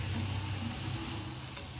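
Okra frying in a pan, a soft, steady sizzle and hiss over a low hum, close and quiet, with no voices.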